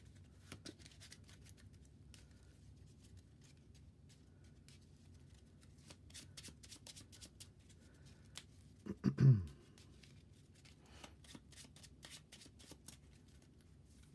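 Marvel Champions cards, including damage cards, being shuffled into a deck by hand, with a quiet rustle throughout and one louder, brief riffle burst near the middle; no one talks.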